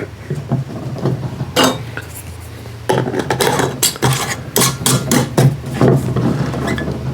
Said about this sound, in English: we'll put a lid on that